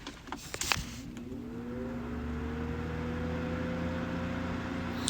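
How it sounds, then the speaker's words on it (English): An electric fan switches on after a few clicks, its motor humming up to a loud, steady whir that holds, resembling a car engine. "This is what it sounds like if I like turn on my fan."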